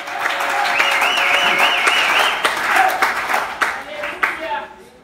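A church congregation claps and cheers together in steady applause, with raised voices and singing mixed in throughout, fading toward the end.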